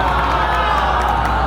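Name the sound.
applause for Vilarinho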